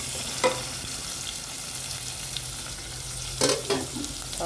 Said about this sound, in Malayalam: നമുക്ക് എന്നിട്ട് ഇനി ഇതിട്ട് കൊടുക്കാം സവാള ഇട്ട് കൊടുക്കാം